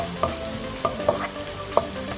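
Ginger and garlic sizzle and fry in a pan while a utensil stirs, with a few sharp scraping clinks spaced irregularly over a steady frying hiss.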